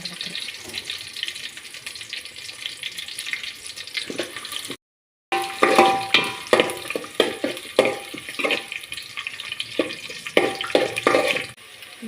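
Onion with cinnamon, cloves and bay leaf frying in a pan for khushka rice, a close, busy sizzle broken by scraping stirs and a brief gap of silence, with no talking.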